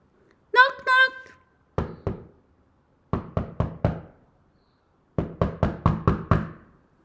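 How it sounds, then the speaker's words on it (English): Knocking on a door, heard as a storybook-style sequence of sharp raps: two knocks, then a quick run of five, then a longer run of six, each crisp and close, following a brief spoken exclamation. "They beat upon the door."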